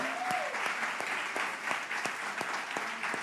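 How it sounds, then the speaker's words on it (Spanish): A church audience applauds at the close of a talk on depression, with loud, steady clapping and strong regular beats running throughout. "Vamos a darle un buen aplauso."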